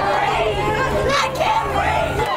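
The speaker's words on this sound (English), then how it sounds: "Large crowds of protesters took to the streets of downtown San Antonio Saturday, gathering near the Alamo" Protest crowd in downtown San Antonio near the Alamo, a dense steady babble of many voices with shouting rising over it, close and loud throughout.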